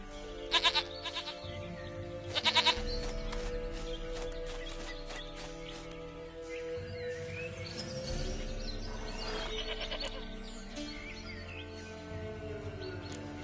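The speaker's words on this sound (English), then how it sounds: "Goat of mine, dearest, sweetest goat." Goat bleating in The Witcher 3: Wild Hunt, with two loud, bright bleats near the start and a few softer calls later, all set over a steady in-game music bed.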